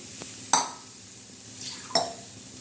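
Besan (gram flour) mixture being stirred in a pan, with two sharp spoon clinks against the metal about a second and a half apart over a soft, steady background hiss.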